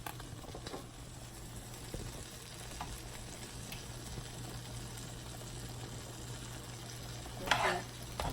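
Butter melting in a pan gives off a steady, soft sizzle with faint bubbling and a low background hum, punctuated near the end by a brief louder crackle.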